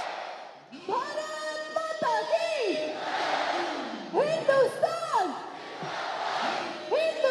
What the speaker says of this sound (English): You can hear the crowd, the chant.